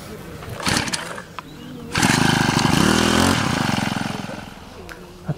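A generator restarting: a short sputter, then a loud rough engine roar that catches and runs steadily for a couple of seconds before easing off, close by and alone.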